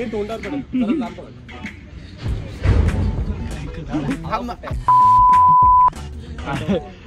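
A steady, loud one-second censor beep cuts over people talking, with thumps and a lively outdoor New Year party crowd around it.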